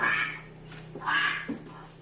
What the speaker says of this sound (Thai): ก็คือข้อคอควายค่ะเป็นเสียงของเป็ด